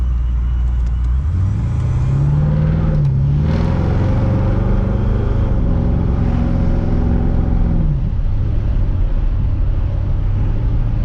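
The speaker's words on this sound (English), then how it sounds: "Pro Charger in it and the LS, man, it sounds good." A loud Chevy engine, a supercharged LS V8 with a ProCharger, with a deep, rough growl revs up, holds, then drops back, rumbling steadily close by while driving.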